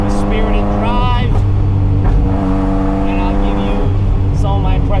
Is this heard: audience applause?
no